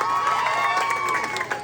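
A brief burst of audience cheering and clapping at a barangay beauty pageant, a crowd responding loudly under a lingering musical tone.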